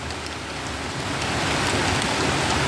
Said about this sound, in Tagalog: Maulan na, maulan. Maulan. Lah, lakas.